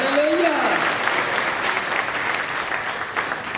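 Congregation at a Nepali prayer house clapping loudly in thanks to God, a dense steady wash of applause filling the room, with a voice briefly heard over the start.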